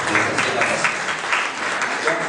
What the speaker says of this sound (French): merci beaucoup Marouf, on va l'applaudir pour